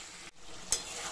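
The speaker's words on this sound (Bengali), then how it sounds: "আলু দিয়ে নাড়াচাড়া আমার মোটামুটি হয়ে গেল।" Potatoes are stirred in a frying pan for a spiced potato curry (masala aloo dum), with a soft sizzle under a brief scrape of the spoon, faint and close, with no talking.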